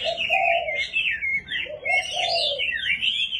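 A Chinese hwamei songbird kept as a cage bird sings continuously, loud and close, with long looping whistled phrases and warbles, interrupted only by brief pauses.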